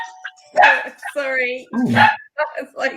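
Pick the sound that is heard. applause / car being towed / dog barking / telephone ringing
dog barking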